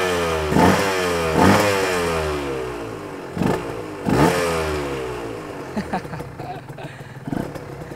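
A Honda NSR 150 SP two-stroke motorcycle engine catches after a kick start and runs close by, with sharp revving blips over a buzzy, crackling idle before settling to a rougher, uneven putter.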